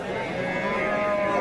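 Cattle at a rural livestock market, including a crossbred bull calf and cows of Sahiwal and local breeds, low and steady, filling the short stretch without pause as a continuous bovine mooing bellow.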